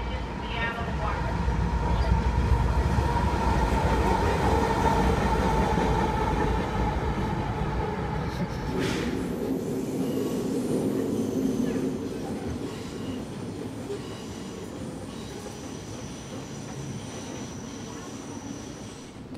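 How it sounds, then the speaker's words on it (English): An Amtrak Coast Starlight passenger train, number 14 bound for Seattle, pulls into a station with a loud, steady rumble of wheels and rail noise, squealing brakes and a sudden clank partway through, then a lower rolling hum as it slows. "arriving on track number one, train number 14, Coast Starlight, final destination, Seattle, Washington."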